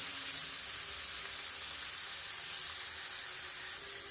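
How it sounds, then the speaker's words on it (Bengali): Bitter gourd slices coated in salt and turmeric frying in hot oil, a steady, even hiss of sizzling with no talk over it. "এবার ওই তেলে উচ্ছেগুলোকে অল্প অল্প করে দিয়ে ভাজা করে নেব"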